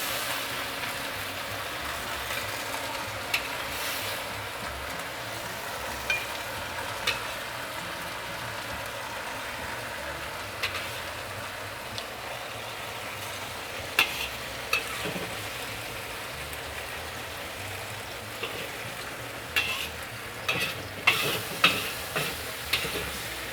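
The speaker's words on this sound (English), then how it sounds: "Get a nice sizzle." Steady hot sizzling and bubbling of fish and tofu in a clay pot, continuous and close, with occasional sharper crackles and pops.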